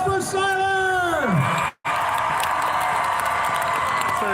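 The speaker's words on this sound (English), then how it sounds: "a nice round of applause for Siler!" Crowd at a Renaissance faire cheering and applauding, a sustained wash of clapping and whoops after an announcer's loud call, with a brief dropout partway through.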